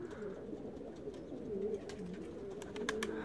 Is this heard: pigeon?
yes